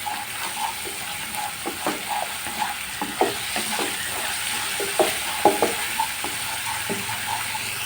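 Garlic paste fries in hot oil with a continuous close sizzle, punctuated every second or so by sharp taps and scrapes of a spoon stirring the pan.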